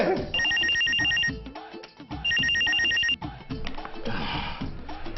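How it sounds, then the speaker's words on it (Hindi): A telephone rings in a domestic drama scene, two loud bursts of repeated electronic trills separated by a short pause, with faint background sounds between them. "बेल जा रही है।"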